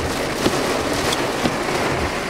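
Heavy rain falls outdoors in a steady, dense hiss of drops with a couple of faint knocks, loud and close, with no voices.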